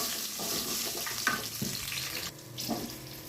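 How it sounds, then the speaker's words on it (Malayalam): Green chilies and a little tamarind sauté in a pan for green chutney, giving a steady close sizzle with a few brief knocks and pops scattered through it. "2 പച്ചമുളക് ഇട്ട് വഴറ്റിയിട്ട് ഒരു ശകലം പുളി, ഇച്ചിരി പുളി, ആ പുളിയും കൂടെ ഇട്ട് ഒന്ന് മൂപ്പിച്ചിട്ട്"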